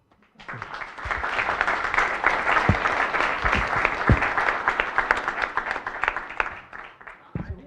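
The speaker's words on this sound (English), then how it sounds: "a round of applause to the editors" An audience at an evening panel event on India's economic priorities applauds the editors, a sustained, full round of clapping that swells after a quiet start and fades slightly near the end.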